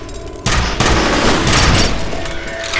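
Gunfire from a weapon in the video game F.E.A.R., a loud sustained burst of rapid shots with heavy booming impacts, filling the whole moment without talk.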